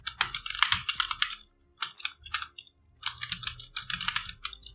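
Rapid typing on a computer keyboard, close and crisp, with dense bursts of key clicks separated by brief pauses.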